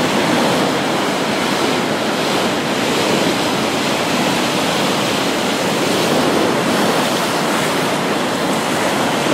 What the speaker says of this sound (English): every time the waves come up, they sometimes bring one of these basketball-sized rocks in